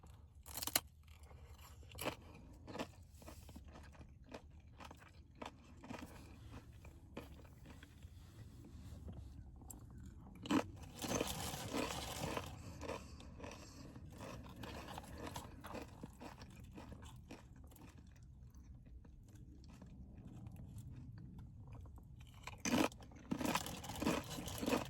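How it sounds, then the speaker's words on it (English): Super crunchy chips from a CAVA lunch are bitten and chewed close to the microphone in a quiet ASMR setting, with soft crunches and a few sharper bursts of crackle spread across the stretch. "Alright, warning if you don't like super crunchy sounds,"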